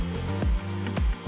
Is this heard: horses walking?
no